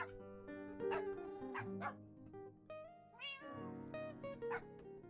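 A pet parrot mimics a dog, giving a string of short, harsh bark-like yelps and yips with some meow-like squawks mixed in, close and fairly loud, alone without talk.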